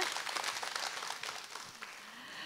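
A television studio audience on a Korean singing show claps in a dense, lively burst that tapers off slightly toward the end.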